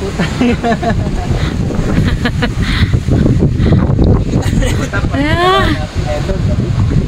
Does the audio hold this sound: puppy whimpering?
no